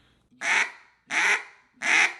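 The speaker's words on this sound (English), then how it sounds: "when you hum, you're making that reed vibrate more and it sounds more ducky." Three raspy, evenly spaced quacks come from a duck call blown while humming, its reed vibrating hard; each note is short, close and loud, with brief silences between.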